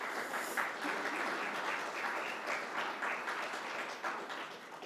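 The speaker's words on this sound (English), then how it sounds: "So if we can give them a round of applause" Steady applause from a conference audience at a cybersecurity convention, dense continuous clapping for the full stretch with no pauses, moderately loud and filling the room, with no voices standing out.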